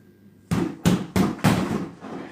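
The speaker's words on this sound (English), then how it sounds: "you can hear the last punch in the combo is the most powerful one" Four sharp punches land in a fast boxing combo against a bag or pads, evenly spaced and loud, the last impact the strongest, followed by quiet.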